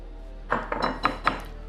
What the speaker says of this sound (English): First we're going to add in 1 cup of mayo.